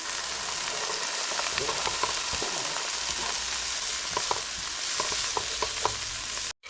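A small onion sizzles in a pan used for chili, a steady moderate frying hiss with occasional clicks and scrapes of stirring, no voices.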